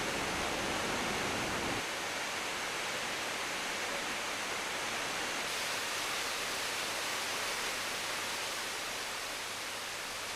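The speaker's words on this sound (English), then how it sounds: "the waterfall becomes impressive and noisy" A waterfall in Sapa, Vietnam roars in a steady, unbroken wash of rushing water, constant and full throughout.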